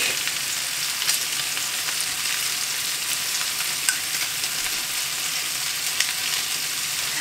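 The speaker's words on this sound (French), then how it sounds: "on va ajouter l'ail et nos échalotes et on va les faire dorer aussi un petit peu" Brussels sprouts halved, with bacon, garlic and shallots, browning in a pan: a steady, close hiss of frying with a few small pops and stirring scrapes, no talking.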